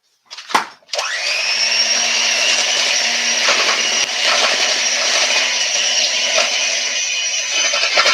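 Gluten-free snickerdoodle cookie dough of creamed butter and sugar being mixed: a brief clatter, then a loud, steady electric motor whir that runs on without a break.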